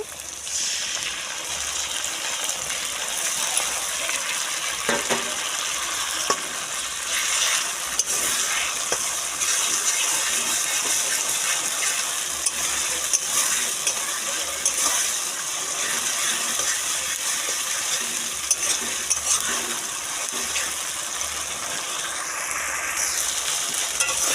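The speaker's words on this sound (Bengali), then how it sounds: "এখন আমি এই যে টমেটো জুসটা দিয়ে দিচ্ছি" Chicken frying in a pan sizzles loudly and steadily as tomato juice goes in, a dense, continuous hiss with bubbling and occasional stirring scrapes, close up and with no voices.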